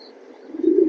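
A racing pigeon from a loft gives a single brief, low coo that swells toward the end, close and clear with no talking.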